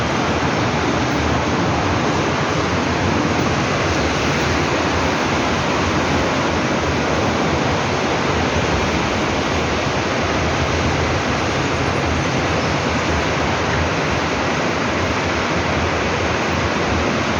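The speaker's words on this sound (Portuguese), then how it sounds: "Chuva, muita chuva, chuva," Heavy rain pours down on a street in Teresina, Piauí, a loud, unbroken hiss of falling water that stays steady throughout without any talk.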